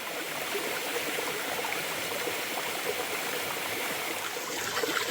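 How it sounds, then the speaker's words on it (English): Edward Stanley waterfall at Somerset Dam in Queensland, Australia: a small stream tumbling over rocks in a steady, close rush of splashing water that holds even throughout, with no voices. "A few other little hidden waterfalls up here."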